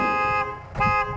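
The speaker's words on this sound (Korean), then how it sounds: "그 습관이 있어서 들어오시면 빵빵 울리세요." A car horn announces a father's arrival home, sounding two loud, close honks in quick succession, the first longer and the second shorter after a brief gap.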